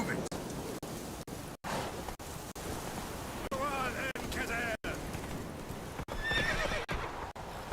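Horse in The Witcher 3 video game trots with brisk, repeated clip-clopping hooves and gives a couple of whinnies, set over a noisy outdoor wash, with speech-like vocal sounds mixed in.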